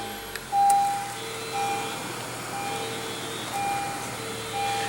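A 2015 Honda CR-V Touring with a 2.4-liter four-cylinder engine starts with a brief push-button crank, then settles into a steady, smooth idle with a low hum, heard alone.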